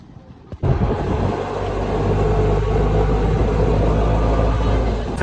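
An auto rickshaw engine starts with a thump and then runs steadily, a close, loud, low rumbling drone that holds even through the rest of the clip.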